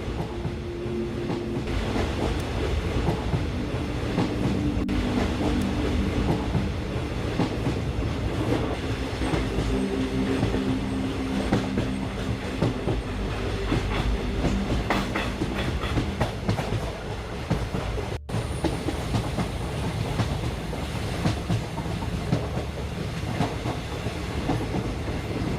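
A train rumbles steadily along the rails toward Srinagar with a continuous clickety-clack of wheels, close and loud throughout, with no voices.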